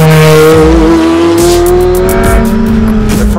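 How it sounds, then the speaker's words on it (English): A Ferrari F430 Scuderia driving hard on a racetrack, its engine loud and close with a rising rev that climbs through a gearshift, accompanied by squealing tires. "It is a purebred track car, so let's take it out there,"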